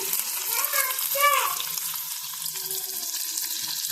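Four or five crushed garlic cloves sizzle in hot oil in a pan, a steady close hiss with a brief voice-like murmur near the start.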